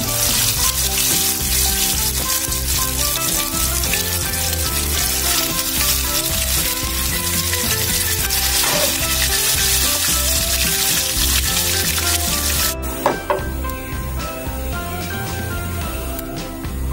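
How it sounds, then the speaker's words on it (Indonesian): Bacem, marinated tofu or tempeh, fries in hot oil with a loud, steady sizzle and crackle that carries on for a long stretch, with occasional stirring and no talk. "sekarang kita goreng ini bacemnya"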